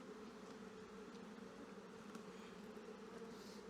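Honey bees buzz steadily around an open hive during an inspection, a continuous, even drone held close throughout with no talking.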